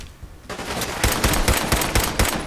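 Gunfire from the video game Fallout 4 rattles out in rapid, loud bursts, a quick succession of sharp shots after a brief quieter lead-in.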